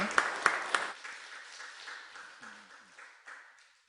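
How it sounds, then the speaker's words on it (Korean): Brief burst of clapping from a church congregation during a Sunday worship service, a few sharp claps at the start that quickly fade into a soft, dwindling patter. "하나님께 영광 올려드리는 박수입니다."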